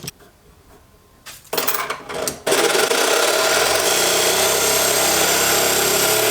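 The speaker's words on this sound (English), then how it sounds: "By hacksaw, I meant sawzall." A Sawzall reciprocating saw starts up and cuts through a cheap monopod part, a loud, steady harsh rasping buzz that runs without pause after a few short bursts.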